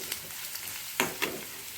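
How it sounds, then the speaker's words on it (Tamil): Onions sauté in a pan with a soft continuous sizzle, broken by a couple of sharper stirring scrapes partway through, close and fairly quiet with no talking. "வெங்காயம் நல்லா ஓரளவுக்கு வதங்கிடுச்சு."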